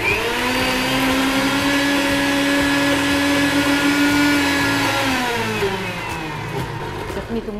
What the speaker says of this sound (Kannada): ಲಾಸ್ಟ್ ಮಿಕ್ಸಿಯಲ್ಲಿ ತೆಗೆಯುವಾಗ ಇದೇ ನೀರನ್ನು ಹಾಕಿ ತೆಗಿಲಿಕ್ಕೆ ಆಗ್ತದೆ